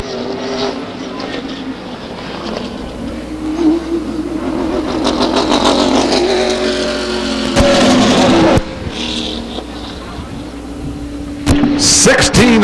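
A race car at a speedway short-track event revs with an uneven, sputtering engine note, rising and falling in bursts over about thirteen seconds, with other engine noise and an announcer's voice mixed in.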